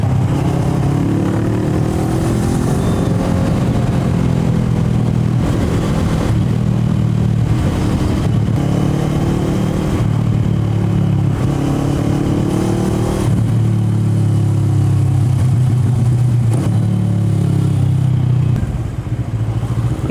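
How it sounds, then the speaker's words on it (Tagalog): A Kawasaki Z650 motorcycle fitted with a Yoshimura R77 exhaust rides along close up, its engine droning loudly and rising and falling through repeated revs and gear changes. "Tahimik ng tambocho natin ngayon tol. Nagpalit kasi ako ng Yoshimura R77."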